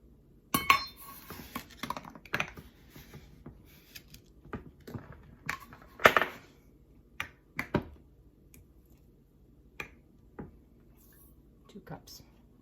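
Clinking dishes and utensils while raw cane sugar is measured out for bread and butter pickles, with scattered sharp taps and clicks at irregular intervals, close up and fairly distinct.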